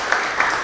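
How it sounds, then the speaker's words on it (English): An audience breaks into steady clapping, a dense, continuous patter of many hands filling the space. "give some clapping"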